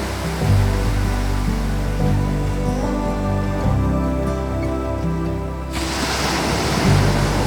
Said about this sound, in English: as the sound of the ocean lulled us to sleep.